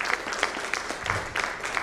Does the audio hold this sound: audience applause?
yes